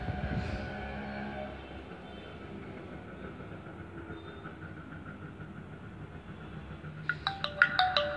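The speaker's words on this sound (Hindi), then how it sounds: "देखिए दोस्तों ये जियो टून" A Jio 4G phone plays its startup tune, a short bright electronic melody of clipped notes arriving near the end after a quiet stretch of low background hum, close and clear.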